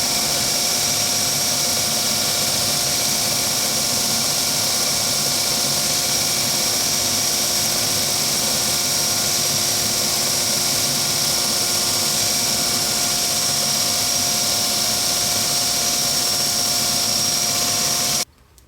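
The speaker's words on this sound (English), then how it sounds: "and now I'll sand up to the line" A belt sander grinds a wooden piece up to a marked line while shaping a charging stand for an Apple Watch. A loud, steady whine and drone runs without a break for about eighteen seconds and then cuts off abruptly.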